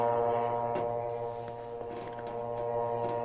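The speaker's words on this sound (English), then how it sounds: "this is the sound of the drone as it is." A synthesized drone played from a MIDI keyboard controller starting at middle C, a sustained steady hum with faint clicks, quiet and alone.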